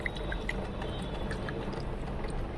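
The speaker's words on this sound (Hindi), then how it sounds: "इस तरह से इसको पूरे गमले में पानी का छींटा डाल देना है।" Water sprinkled by hand over coriander seeds sown in a soil-filled pot, a soft continuous splashing and pattering with faint scattered drips, close and steady.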